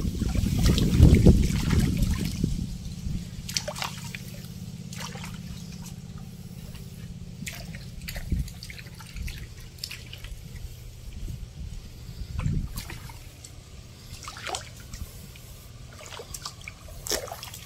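River water trickles and laps softly as freshwater shells are rinsed by hand at the bank, with scattered splashes and drips, a louder swirl near the start and another mid-way, fairly faint overall.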